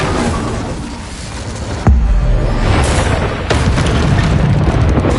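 Explosive spell blasts in the Hogwarts Legacy video game, with a heavy boom and a sharp second burst amid continuous rumbling, loud and close, no talking.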